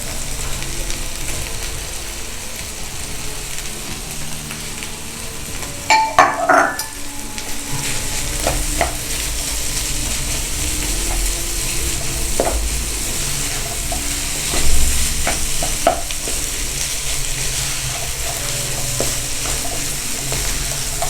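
Boiled chicken frying and being stirred in a pan for shahi chana, a steady sizzle throughout with a few scraping stir strokes near the start and more light clinks later.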